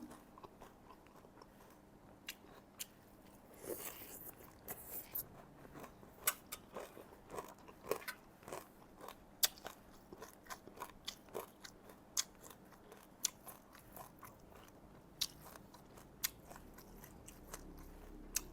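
Crunchy fried mole crickets being chewed, a quiet close series of irregular crisp bites and crunches spread over many seconds, with soft mouth sounds between and no talking.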